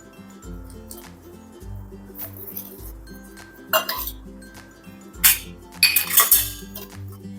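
Ground moong dal for bhaji is mixed with spices in a metal bowl, with rhythmic scraping and stirring punctuated by several sharp clinks and clanks of a spoon against the bowl, close and loud, with no talking.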